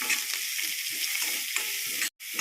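Onions with green chilli fry in a pan, a steady broadband sizzle running throughout with soft periodic stirring scrapes and a brief dropout near the end; no one speaks.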